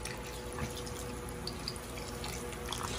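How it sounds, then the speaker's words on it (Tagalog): Sprite poured onto a chicken marinade, a faint fizzing, trickling liquid with soft drips and splashes, steady and close, with no talk. "lalagyan natin siya ng Sprite"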